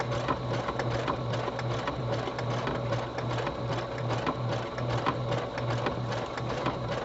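A sewing machine stitches fabric slowly, its needle knocking in a steady, close rhythm over a low motor hum.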